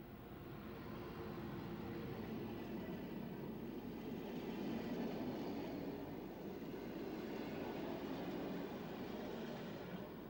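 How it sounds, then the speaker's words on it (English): A lorry piggyback train passing on an Italian corridor rail route, a faint, steady, distant rumble that holds evenly throughout. "This is one of the lorry piggyback trains designed to rid the motorway of the environmentally unfriendly 38-ton juggernauts."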